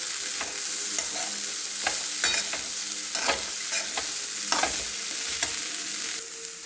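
Finely chopped tomato sautéing in a pan for dadpe pohe, with a continuous close sizzle broken by repeated scraping stirs of a spoon, and no voices.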